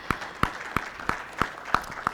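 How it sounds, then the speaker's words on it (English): Applause from an audience at a conference session on state governments and electronics manufacturing, heard as seven sharp, evenly spaced claps rather than a full crowd roar, moderately faint with no talking. "let's hear it up with a round of applause for him"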